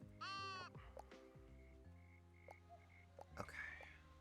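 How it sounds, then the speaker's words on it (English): Sheep in the cozy building game Tiny Glade give a loud, wavering bleat near the start, then fainter chirps and soft ambient tones follow, with a brief breathy voice near the end. "My sheep."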